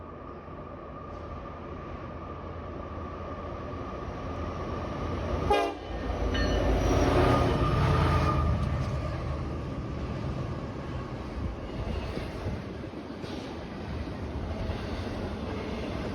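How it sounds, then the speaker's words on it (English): A westbound freight train led by two Union Pacific GE locomotives passes on the Allegheny west slope, a steady rumble that swells mid-clip with sustained horn tones and rail noise, then slowly fades. "Following fast behind 11V is yet another westbound, with 2 Union Pacific GEs in tow."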